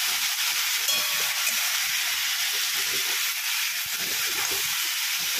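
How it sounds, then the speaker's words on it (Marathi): Brinjal pieces sauté in hot oil in a pan, giving a continuous, even frying hiss at close range. The hiss holds steady at the same level throughout, with no voices. "तर आपण तेलामध्ये त्याचे छान असे परतून घेणार आहोत."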